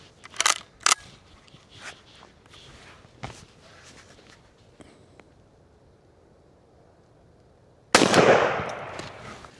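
A shotgun firing buckshot at a target 100 feet away, a sharp close blast with a brief decaying roar, preceded by a few light clicks and handling noises.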